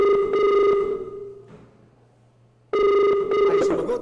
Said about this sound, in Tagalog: parang bastos yung tunog ng ring